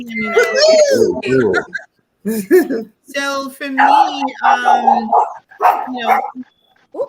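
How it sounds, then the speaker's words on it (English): A dog barks and whimpers in the background of an online group call, its yips and whines coming in bursts mixed with people talking over one another. "is that me that's doing that or somebody's dog?"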